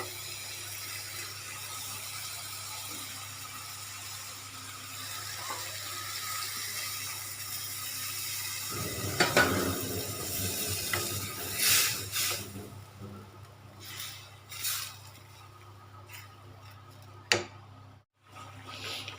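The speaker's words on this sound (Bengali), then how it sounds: "এরপর সামান্য আরেকটু জল দিয়ে ঝোলটা বানিয়ে নেব" Water is poured into a pan of fish curry frying in oil to make the gravy, heard as a sudden splashing sizzle that fades into bubbling, with some clatter from kitchen utensils.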